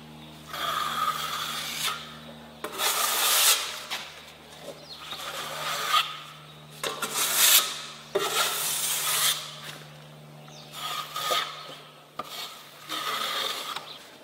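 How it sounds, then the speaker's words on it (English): A flat trowel spreading drywall mud over a butt joint, with repeated scraping swipes of a few seconds each, rising and falling in a steady rhythm, close and fairly clear. "you can use a flat trowel and just float it a bit and build up the mud"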